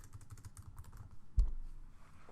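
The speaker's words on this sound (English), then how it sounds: "up here I'm going to type in show savings" A computer keyboard is typed on in a quick run of light, close clicks, followed by one heavier keystroke and then a brief lull.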